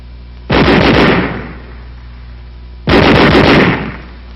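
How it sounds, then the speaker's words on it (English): Two separate bursts of automatic weapon fire, each lasting about a second with rapid rounds blending into a loud crackling roar, followed by a fading echo and a pause between them. "Weapons giving automatic fire will fire continuously as long as pressure is applied to the trigger"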